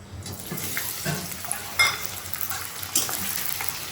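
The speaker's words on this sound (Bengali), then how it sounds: "পেঁয়াজটা ভাজা চাপালাম" Onion fries in a pan with a steady, moderate sizzle and a few soft stirring scrapes, heard up close without speech.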